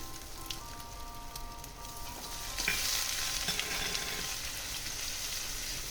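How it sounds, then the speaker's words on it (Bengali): Grated ginger frying in a pan for a ridge gourd and moong dal dish gives a steady, close sizzle with soft stirring scrapes, growing a bit louder and hissier partway through. "এবার আমি এর মধ্যে দিয়ে দিচ্ছি গ্রেট করে রাখা আদা"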